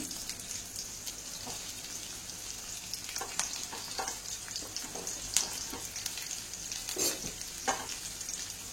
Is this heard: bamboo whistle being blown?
no